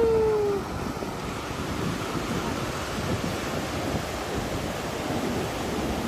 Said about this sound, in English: No wonder people come here to surf. Look at the waves. Very surfy waves.